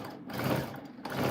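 A sewing machine stitching along a quilt border row, a steady close whirring hum with slight pulsing, running briefly without talk.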